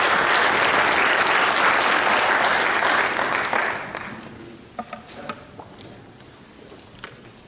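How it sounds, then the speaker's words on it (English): An audience applauds a speaker at a talk about children's risk of drug abuse and addiction. The dense, loud clapping holds steady for about four seconds, then fades into a few scattered claps. "Let's give a round of applause for that."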